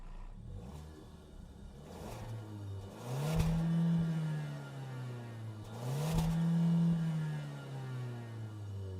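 A Suzuki Swift Sport turbo hybrid engine comes to life and settles into a low idle, then revs twice in sharp, rising swells a few seconds apart, heard from nearby with no talking.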